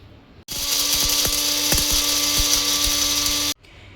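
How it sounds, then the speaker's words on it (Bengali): A mixer grinder grinds roasted spices for tuna curry, starting abruptly into a loud, steady motor whine that runs about three seconds and then cuts off sharply. "এটা নামিয়ে নিয়ে ঠান্ডা করে মিক্সিতে গুঁড়িয়ে নেব।"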